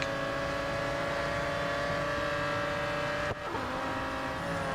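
McLaren Solus GT in Real Racing 3 holds a steady, loud engine drone with sustained harmonic tones, then briefly cuts and drops in pitch near the end as the car brakes before settling back to a lower hum.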